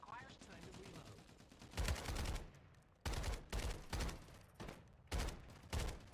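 Bursts of automatic gunfire from a gun in the Farlight 84 video game, several loud rapid-fire volleys separated by brief pauses, close and dominant.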